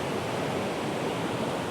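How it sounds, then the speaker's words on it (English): A waterfall at Routin Brig in Scotland pours its final cascade into a deep dark pool, a steady broadband rushing roar with no breaks and no voices. "this final cascade before it pours into that deep dark pool"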